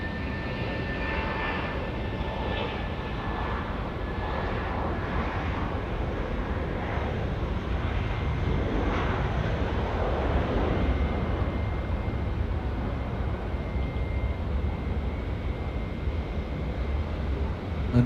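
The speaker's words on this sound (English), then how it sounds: "now departing runway 23 here at Auckland Airport" An airliner departs runway 23 at Auckland Airport with a steady, loud engine roar that holds for the whole stretch. Wind buffets the microphone throughout.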